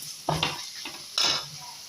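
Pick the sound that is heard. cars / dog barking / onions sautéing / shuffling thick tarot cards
onions sautéing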